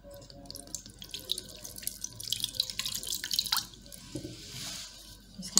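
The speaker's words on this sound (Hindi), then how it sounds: "अब आप इसके अंदर बाउल के अंदर थोड़ा सा पानी डालें।" Water poured into a bowl over a wide tray while making tamarind chutney, a steady splashing trickle with small drips, close and fairly quiet.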